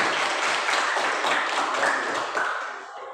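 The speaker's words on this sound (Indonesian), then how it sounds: "Oke, berikan aplaus." A school audience gives a burst of dense, continuous applause. Many hands clap together and the sound fades toward the end.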